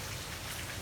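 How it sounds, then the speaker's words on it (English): Heavy rain pours down at Disney World, a steady, dense hiss of falling water with no voices. "Yep, it's raining. It's all coming down."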